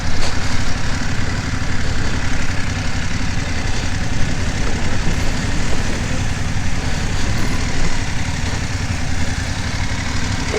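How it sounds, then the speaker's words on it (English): A BMW GS motorcycle engine idles steadily while the bike crawls along on the clutch without throttle, a loud continuous rumble running alone and unbroken from start to finish. "So we're not giving throttle, we're just crawling with the bike."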